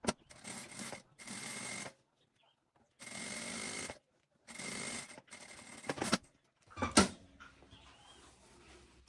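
A sewing machine stitches a side seam on a three-pocket waist bag at a shorter stitch length: several steady, whirring runs of about a second each, separated by pauses, close and fairly quiet, followed by some light clatter.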